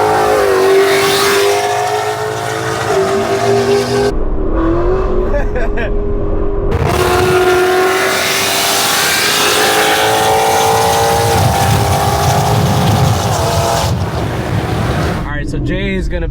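A loud Ford Mustang GT with a Gen 3 5.0 V8 and an over-the-can exhaust revs hard and accelerates, its engine roaring continuously close by. The pitch climbs through gear changes and then drops back.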